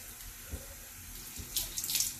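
Water runs from a bathroom faucet into a sink during a nighttime face rinse, a steady close stream that grows louder and splashier near the end as hands break the flow, with no talking.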